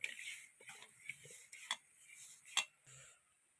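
Rava dough being mixed with salt and hot water in a bowl, with irregular scraping, clinking and knocking of a spoon or utensil against the vessel, close and moderately loud, without talk.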